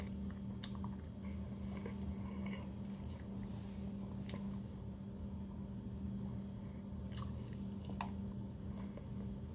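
Someone eats a slice of chocolate chip cake in a bakery shop, with soft, close squishy bites and chewing over a steady low background hum and no talking.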